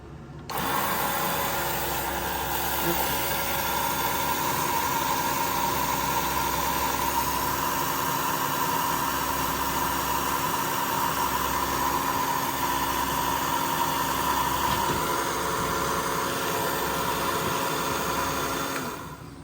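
A Chinese diesel heater's electric fuel pump runs on a boat as it tries to draw fuel, giving a steady close mechanical hum with a faint pulsing rhythm that lasts about eighteen seconds before stopping, with no talk.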